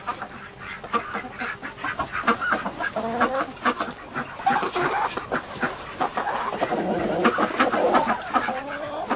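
Chickens in a henhouse cluck continuously, close and busy, with overlapping calls and some squawks from the flock filling the whole stretch alongside a little talking.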